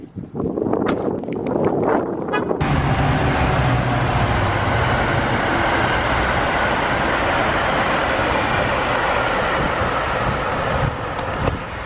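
A Chicago train rumbles past close by, a loud sustained roar with rattling wheels and wind buffeting the microphone, after a few brief knocks at the start.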